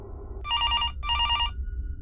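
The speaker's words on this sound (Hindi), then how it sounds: "तभी फोन की रिंग बजती है" A telephone bell rings in two quick trilling bursts with a short pause between, clear and close over a low background hum.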